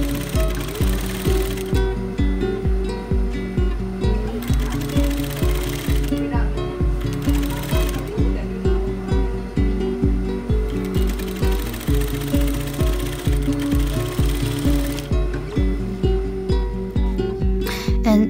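A sewing machine stitching the back seams of a polo shirt, running in a fast, steady mechanical chatter with a regular needle rhythm that pauses briefly a few times before resuming, loud and close throughout.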